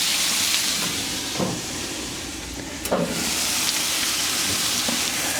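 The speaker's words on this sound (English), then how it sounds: "And we'll sear it on all sides. Let it sit in there like that. Close the lid for a minute." Meat sears in a covered pot for a homemade meat sauce, giving a steady loud sizzle and hiss with a few brief pops and clicks, close up and without speech.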